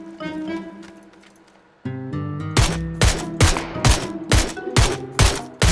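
Rapid gunfire rings out in a battle royale video game: six or seven sharp, loud shots at roughly half-second intervals over a tonal game background, following a quieter stretch with a sudden tonal swell.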